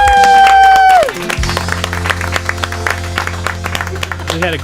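As a Tejano conjunto's music ends on a sliding final note, the crowd at a live show responds with scattered clapping and cheering, fairly loud and somewhat distant.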